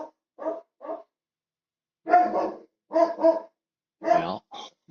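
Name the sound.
dog barking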